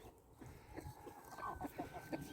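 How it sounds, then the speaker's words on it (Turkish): Chickens cluck softly in short repeated bursts nearby, a low murmuring flock sound with faint background noise. "Tavuklar çıksın tamam mı?"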